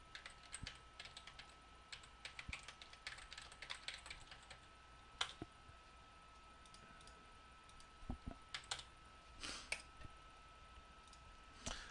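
Typing on a computer keyboard gives quick, irregular bursts of close key clicks with short pauses between them. The room is otherwise quiet and no one speaks.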